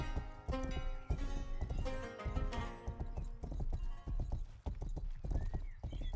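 Horse hooves clip-clopping with a whinny in a medieval-style open-world action game, steady rhythmic hoofbeats over game music and ambient sound, fairly loud and close.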